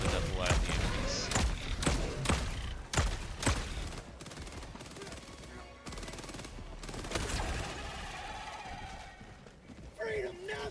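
A strafing run in the Helldivers video game: a dense barrage of rapid gunfire bursts and heavy impacts hammers away for several seconds, with voices underneath.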